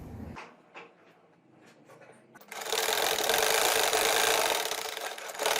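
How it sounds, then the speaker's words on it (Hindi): A sewing machine stitches piping along a dress neckline, its motor whirring loud and steady for the last three seconds after a stretch of quieter handling and fabric sounds. "अब हम इस सेंटर की सिलाई लगाने लगे हैं।"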